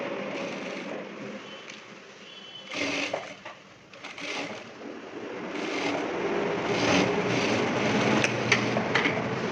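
A tailoring sewing machine stitches the sleeve of a coat-collar shirt in short whirring bursts, close up, with brief pauses between runs and a longer, steadier run toward the end.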